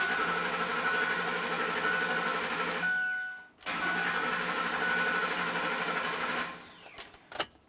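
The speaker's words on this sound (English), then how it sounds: "What you may find when you attempt to start the vehicle, it starts and then stalls on you, or it doesn't start at all" A 2004-2008 Ford F-150 pickup with a 5.4L V8 and a failing fuel pump module cranks and runs briefly, cuts out and goes quiet, then turns over again before dying with a few sharp clicks.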